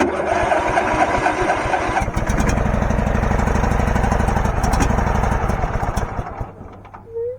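A Case 444 garden tractor engine cranks for a couple of seconds, then catches and runs with a loud, rough, close rumble before dying away near the end.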